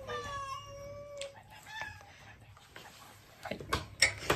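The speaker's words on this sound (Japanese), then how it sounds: "サビ猫ちゃん。" A stray tortoiseshell cat, found in Naha, gives one drawn-out, clear meow near the microphone. Fainter shuffling and a few sharp knocks follow, with a voice briefly in the background.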